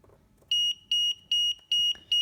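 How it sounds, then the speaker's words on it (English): Loud, high-pitched electronic beeps from a Raspberry Pi traffic-light project repeat in a steady rhythm, about two per second, each a short pure tone with clean gaps of near silence between. "it is beeping over here quite loudly"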